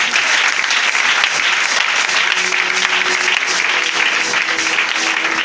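A church congregation claps steadily and loudly throughout, a dense wash of applause from many hands with no pauses.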